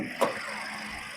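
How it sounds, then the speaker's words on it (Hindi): A Volkswagen Taigun's 1-litre three-cylinder engine idles close by as a low, steady hum, with a brief sharp knock near the start. "अभी आपको शायद थोड़ी आवाज आ रही होगी बिकॉज गाड़ी ऑन में है"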